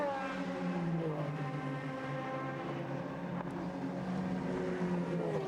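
A BMW race car sits on its rev limiter while entering the pit lane during an endurance race, a sustained buzzing engine note with rising and falling harmonic sweeps, heard at moderate distance with no talking.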